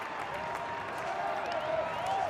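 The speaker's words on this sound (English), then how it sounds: "I'm watching the Baylor dugout, and all of his teammates were applauding him" Crowd applause at an Ohio State vs Baylor college baseball game after Ty Johnson's full-count base hit to right field, a steady, dense clapping wash that swells slightly toward the end, with a faint voice under it.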